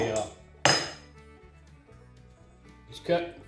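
A metal crescent wrench clanks against the housing of a broken paint sprayer, two sharp metallic knocks at the start and another near the end, with a faint ringing tone in between.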